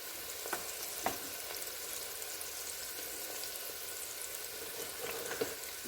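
Chili base with black pepper frying and being stirred in a pot, giving a steady soft sizzle with a few light scraping clicks, fairly faint and without talk.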